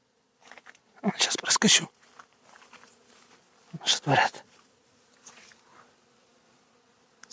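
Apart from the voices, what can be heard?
honey bees humming around apiary hives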